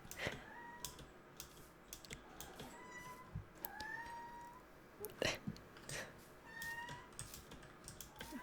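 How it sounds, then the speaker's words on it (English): A pet kitten meows a few times in short rising cries near a microphone, alongside soft keyboard typing and mouse clicks from a peaceful Minecraft session. "My kitten just meowed"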